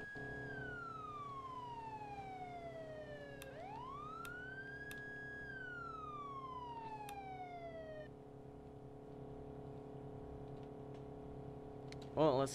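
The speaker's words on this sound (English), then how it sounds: "there's the police sirens" A police siren in a navy simulator game wails steadily, rising and falling in long sweeps over a low engine hum, with a short burst of other noise at the very end.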